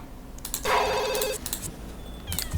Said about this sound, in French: il faut absolument répondre au téléphone.